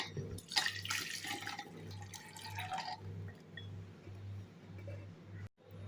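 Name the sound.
draining water from pressure-cooked peanuts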